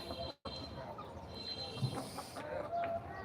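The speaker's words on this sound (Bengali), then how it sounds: "এখানে দেখা যাচ্ছে মোরগ তিনটি মোরগ আছে এবং সতেরোটি মুরগি এখানে রয়েছে" Faint, distant hens and roosters cluck softly against a low hum on a rooftop garden, quiet and scattered across a few seconds.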